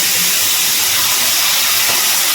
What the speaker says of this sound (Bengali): আমি এর মধ্যে জল দিয়ে দিচ্ছি পরিমাণ